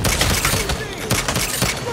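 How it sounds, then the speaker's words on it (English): A dense, close burst of rapid gunfire rattles in Saints Row, with overlapping shots and impacts filling a brief, loud moment. "Who's firing?"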